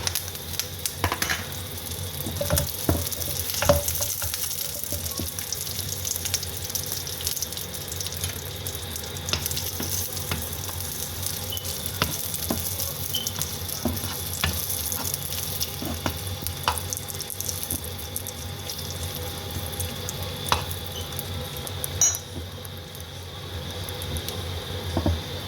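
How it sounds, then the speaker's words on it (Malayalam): Chili, curry leaves and raisins temper in hot ghee for a mutton stew, giving a steady close sizzle with scattered small pops and clicks running through throughout, no voices. "ഞാനിതൊന്ന് മട്ടൺ സ്റ്റൂ ഒന്ന് താളിക്കാനായിട്ട് അതിനകത്തേക്ക് ഞാൻ ഒരു മുളകും വേപ്പിലയും ഉണക്കമുന്തിരി എടുത്തിട്ടുണ്ട്."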